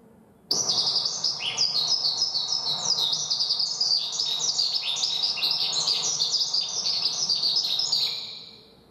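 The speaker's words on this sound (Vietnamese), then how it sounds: "đây là giọng hót của chim sơn ca" A skylark singing a bright, continuous warbling song of rapid high chirps and trills, clear and fairly close, starting abruptly and running steadily for several seconds before fading.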